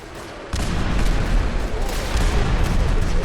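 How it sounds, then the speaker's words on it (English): Sudden loud burst of dense gunfire and booming explosions in the video game Fallout 4 starts after a brief quiet moment, continuing as a chaotic, sustained barrage. "So many explosions."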